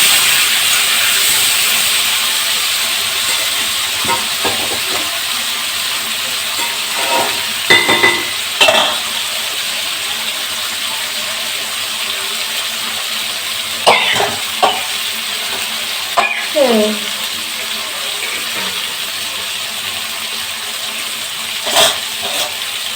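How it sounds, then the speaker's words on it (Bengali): Pointed gourd (potol) frying in oil in a pan, a steady broad sizzle that runs throughout, broken by a few scraping stirs and clinks of a spatula toward the middle and end. "পটলটা ভালো করে ভেজে নেবে এবারে"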